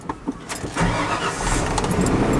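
A car engine, an older vehicle kept as a future bug-out vehicle, cranks briefly and catches, then settles into a loud steady run close by.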